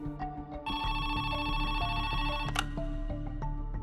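A telephone rings with a bright, sustained electronic ringing tone over a low background bed, repeating steadily for several seconds with no talking.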